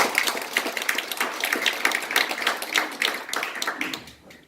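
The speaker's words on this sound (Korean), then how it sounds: "우리 목사님께도 박수 부탁드리겠습니다." An audience claps steadily for a pastor at a church debate forum, dense applause lasting several seconds before tapering off at the end.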